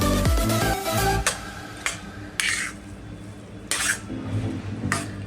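Carrot and jaggery mixture for sweet carrot vadi being stirred in a pan over medium heat: a spatula scrapes and clinks against the metal in several sharp strokes spread over a steady background sizzle, close and fairly loud with no voices.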